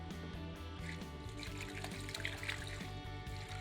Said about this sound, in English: let's pour a little water in this thing and see what you think